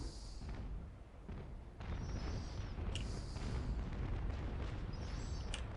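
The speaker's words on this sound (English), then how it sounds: "Edward just took a few broadsides" Naval cannons fire broadsides in Naval Action, a series of booming shots at varying distance, some deep and rolling, others sharper, spread over several seconds with low rumbling between them.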